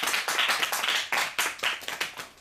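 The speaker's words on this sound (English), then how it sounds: "And I think that deserves a round of applause." Audience applause at a book launch for Ines Khai's first book, Child of the Sea: dense, steady clapping from a room of people, loud and close, with no voices over it.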